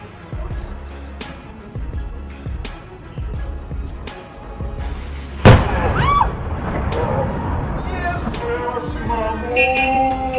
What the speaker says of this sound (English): A powerful earthquake in Mexico City triggers a massive explosion, shaking the entire area.